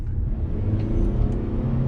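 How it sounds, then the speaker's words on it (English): A 2020 Toyota RAV4 XSE Hybrid's gas engine starts up under acceleration, giving a steady low rumbling drone with a faint rising whir, close and continuous with no talking. "it'll kick over and you can hear the gas engine come on"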